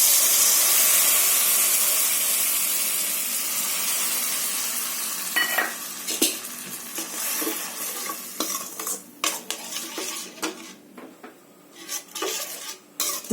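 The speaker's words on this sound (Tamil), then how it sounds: "ஸோ இதை நம்ம இதில் ஊற்றிடலாம்." Tamarind and chili-powder liquid poured into a hot pan for manathakkali vathal kuzhambu, a loud hissing sizzle that slowly fades, then stirring and clinking of a spoon against the pan, close up and without talk.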